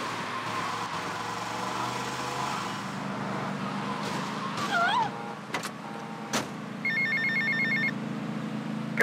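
Payphone ringing in GTA Vice City amid game ambience, a steady low background rumble with a few brief electronic tones, then a repeated trilling ring near the end.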